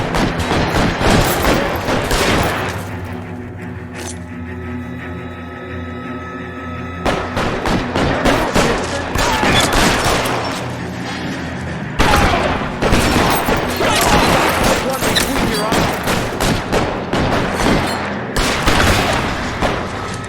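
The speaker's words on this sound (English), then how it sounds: "Covering fire!" Gunfire in L.A. Noire, dense volleys of shots and rapid bursts crackling across the whole stretch, loud and close, with brief lulls between exchanges and shouting voices mixed in.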